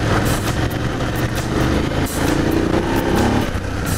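A BMW F 750 GS motorcycle climbing an off-road hill in second gear, its engine droning loudly and steadily close by, with brief surges and dips in throttle as the bike hops over terrain.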